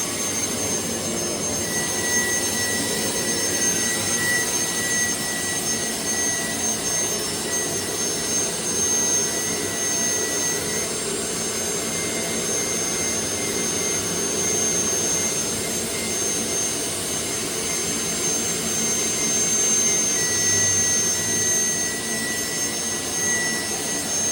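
A jet turbine engine powering a Camaro car runs steadily, producing a loud, continuous high-pitched whine over a broad roar that holds at a constant level throughout, with no voices.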